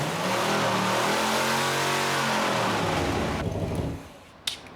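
A car engine with mothballs added to its fuel tank revs hard and steadily, rising and holding a loud growl for about three seconds before dropping away, followed by a brief sharp knock.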